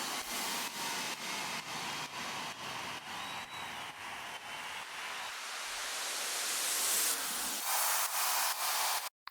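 Hissing white-noise sweep effects in an FL Studio track rise and swell, pulsing in a regular rhythm before cutting off abruptly at the end.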